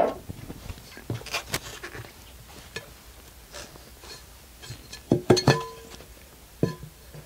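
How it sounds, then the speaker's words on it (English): A metal tire spoon prying a tire bead off a wheel rim at home, heard as scattered sharp metallic clinks and scrapes close by, with a cluster of louder clanks near the end and quiet gaps between. "So I'm going to use a tire spoon just enough to get this up and out."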